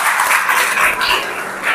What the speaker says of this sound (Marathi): एकदा जोरदार टाळ्या वाजवत असं मी विनंती करतो